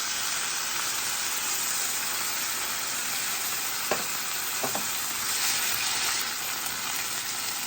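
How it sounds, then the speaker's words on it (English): Steady, crackling sizzle of food frying in a pan before diced tomatoes are added, continuous and fairly loud, with a couple of faint clinks partway through. "we're going to allow that to sizzle"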